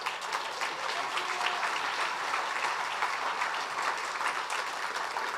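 A crowd at a Republican candidates' forum for a 3rd Congressional District race in Clark County claps steadily, a dense, even wash of applause that holds at the same level throughout with no voices rising above it.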